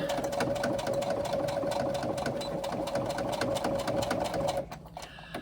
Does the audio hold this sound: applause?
no